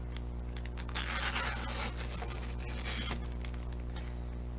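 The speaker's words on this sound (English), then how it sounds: "I'm just going to take my scissors and curl the ribbon up" Scissors drag along ribbon to curl it on a handmade Christmas sign, giving a few close, soft scraping and rustling strokes, the busiest around the first and second seconds, over a steady low hum.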